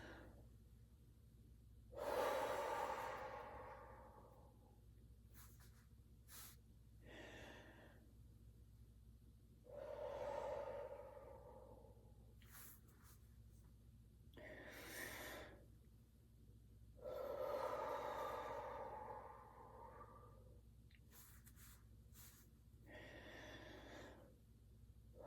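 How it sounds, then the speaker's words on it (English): Slow abdominal breaths pushed into cupped hands during a lymph-drainage exercise, several long airy exhalations spaced a few seconds apart, close and soft, with occasional quieter breaths between and no talking. "We're going to pump the abdomen by breathing into the hands here."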